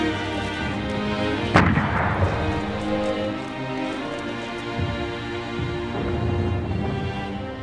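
Heavy artillery and machine gun fire from a First World War trench battlefield, a dense continuous barrage of rumbling booms with one sharp loud blast near the start, sustained at high level throughout with no speech.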